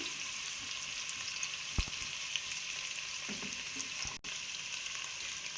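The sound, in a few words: mixed vegetables frying in ghee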